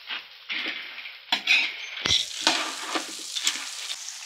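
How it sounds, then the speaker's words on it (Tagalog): Margarine melts in a pan, crackling and sizzling in bursts, with scraping and stirring clatter from a utensil close by, the hiss rising and falling unevenly; no voices are present. "So, tunawin lang natin yung margarine."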